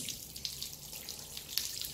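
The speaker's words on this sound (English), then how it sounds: "You can see all the water going everywhere." Water pours over a potted bonsai tree and runs off onto a table, giving a steady splashing flow with scattered drips throughout and no voices.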